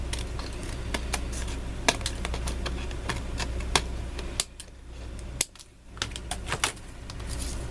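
Excess paper is trimmed from a card sheet for a handmade Christmas card with a string of sharp, close clicks and snips over a low background hum, with no talking.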